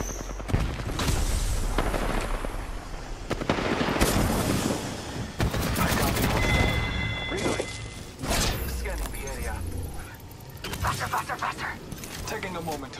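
Gunfire in the Apex Legends video game comes in dense, loud bursts and scattered single cracks, mixed with impacts and game effects, while a voice talks over the action.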